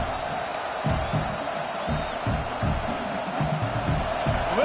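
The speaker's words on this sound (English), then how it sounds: "Listen to this crowd just shaking the girders of this place, trying to help their defense." A home LSU football crowd roars in a stadium, a dense, sustained wash of cheering and yelling that rises in swells, with a voice speaking faintly over it.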